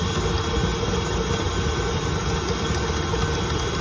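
A KitchenAid stand mixer mixes a Christmas rum cake batter, giving a steady, loud motor drone with a low rumbling hum that holds constant throughout, with no talking.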